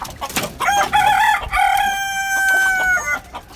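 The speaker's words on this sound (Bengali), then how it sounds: "তো মোরগ যে ডাকাডাকি করছে" A rooster crows loudly and close on a rooftop where chickens are kept, one long cock-a-doodle-doo with rising notes and a drawn-out end, against faint background noise.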